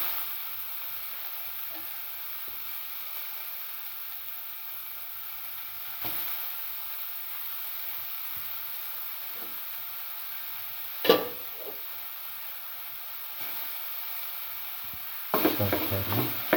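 Cucumber pieces frying in a pan for egg and coconut rice, a faint steady hiss with scattered scrapes and clinks of stirring, one sharper knock and louder utensil rattles near the end.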